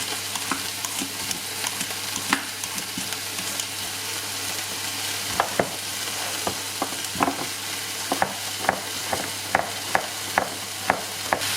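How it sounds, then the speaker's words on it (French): Frozen small onions frying in a little olive oil in a pan, a continuous close sizzle with sharp stirring clicks and scrapes that come faster toward the end, no talk. "Je commence à les faire cuire dans un peu d'huile d'olive"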